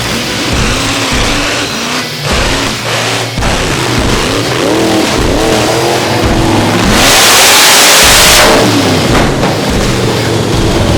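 A 1600-horsepower mini rock bouncer engine roars loudly and close, holding a heavy, steady growl with rising and falling revs and a harsher surge near the end.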